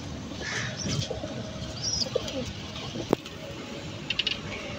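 Pigeons coo softly at a feeding spot scattered with grain and water, with faint chirps and a few light taps over a steady low outdoor hum.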